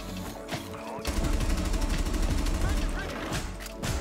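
Rapid automatic gunfire from a weapon during a recoil test in the video game Rainbow Six Siege, with a brief burst before a long sustained volley that fills most of the clip at steady loudness.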